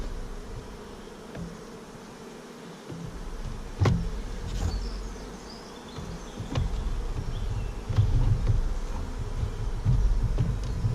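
A steady, dense buzzing of many honeybees in an overwintered nuc being moved to a hive fills the space continuously, with occasional louder bees passing close.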